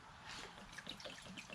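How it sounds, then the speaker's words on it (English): Lucas Oil being poured from a 16-ounce bottle into a Toro Recycler XT675 mower with a Kohler engine, a quiet steady trickling gurgle of liquid running close by for under two seconds. "I'm just gonna pour the whole bottle in here."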